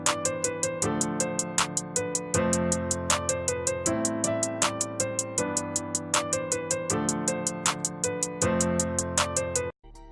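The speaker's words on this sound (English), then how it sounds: "So what I'm gonna do next is put in the hi-hat pattern." A trap beat built in FL Studio plays a fast, evenly spaced two-step hi-hat pattern of crisp ticks. Chord stabs and bass notes shift beneath it for about ten seconds before it stops abruptly.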